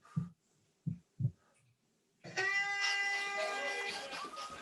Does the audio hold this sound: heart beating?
yes